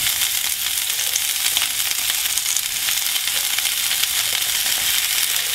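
Longshucai vegetables stir-frying in a hot pan, giving a loud, steady broadband sizzle with crackling spatter and faint stirring scrapes that continue without pause.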